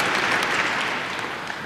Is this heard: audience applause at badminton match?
yes